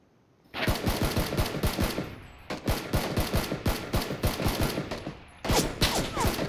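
Rapid bursts of automatic gunfire crack out in PUBG, loud and close, in three long strings of evenly spaced shots separated by short pauses, with the final burst resuming abruptly near the end.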